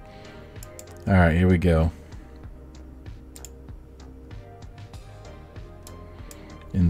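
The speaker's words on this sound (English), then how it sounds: "The mouse clicking sounds is enough for me." Computer mouse clicking during a Kerbal Space Program session, scattered sharp little clicks spread through the clip, with someone speaking briefly over them.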